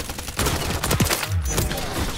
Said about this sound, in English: you like the headshot sounds